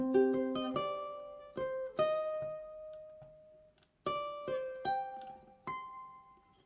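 A ukulele plays the X-Men Animated Series theme as a slow plucked melody, single notes and small chords picked one at a time with short pauses, close and clear.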